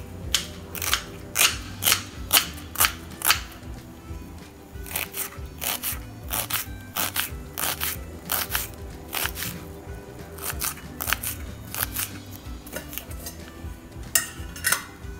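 An onion is chopped finely for curd raita, a knife striking the board in quick sharp taps that come in bursts with brief pauses, close and crisp, no speech.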